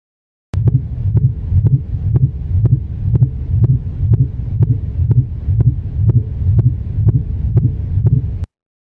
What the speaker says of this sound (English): Okay, and now here is a mink whale.